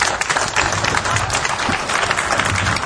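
Audience applause at an eco patrol event, steady dense clapping from a crowd lasting throughout, loud and continuous with no pauses.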